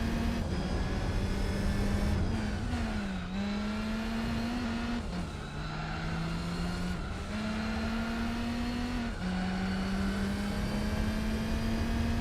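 A car's six-cylinder engine in the Gran Turismo 4 video game, revving loudly and steadily, its pitch climbing through several gears with sharp drops at each shift, heard alone.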